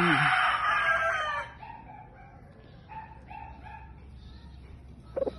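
A Bob McWhite gamefowl rooster crows loudly nearby at the start, then softer clucks and fowl calls follow over a dog barking and faint yard noise.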